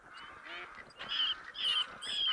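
A bobcat mating call from a hunting caller in theHunter: Call of the Wild sounds as a series of harsh, nasal, honking cries, a few short bursts building louder toward the end.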